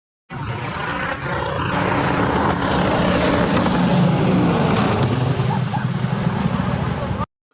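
Convair 340 propeller airliner suffering an engine failure just after takeoff during a flight trial in Pretoria: a loud, sustained piston engine and propeller roar that swells slightly, then cuts off abruptly.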